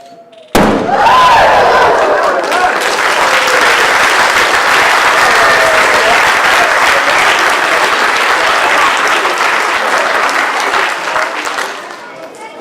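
At a science festival show, a lit balloon bursts with a sharp bang, and an audience immediately breaks into loud, sustained applause that carries on for several seconds before tapering off.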